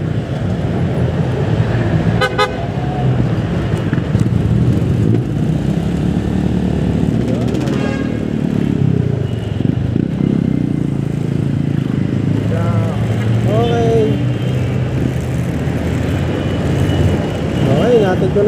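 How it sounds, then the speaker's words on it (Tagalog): Busy road traffic with engines droning steadily and a few car horns tooting, one sharp honk early and others scattered, loud and close, with no one speaking. "May traffic ah."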